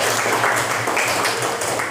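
Classroom applause from a group of students, a dense steady patter of many hands clapping at once for the full two seconds.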